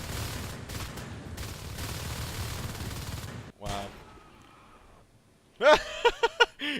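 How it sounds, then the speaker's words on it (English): Rapid bursts of gunfire fill a Natural Selection 2 match at Reactor Core, dense and continuous for several seconds, then drop out before a few sharp, loud shots ring out near the end. "And they are just shooting up the joint."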